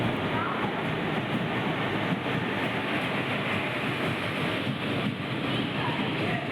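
A Tambaram to Tiruchchirapalli special express train rumbles along steadily with a continuous roar and faint rhythmic clatter, loud and close throughout, with no break.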